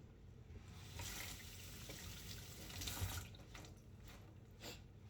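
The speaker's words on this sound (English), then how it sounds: "you can still rinse your gloves off every now and then" Running water from a faucet splashes over gloved hands being rinsed at a sink, a steady broadband wash with a few brief surges, fairly quiet and close, with no talk.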